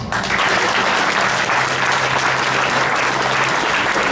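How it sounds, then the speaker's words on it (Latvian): Loud, close applause from a talent-show audience follows a magic trick, a continuous burst of clapping that fills the whole four seconds. "Aplausi."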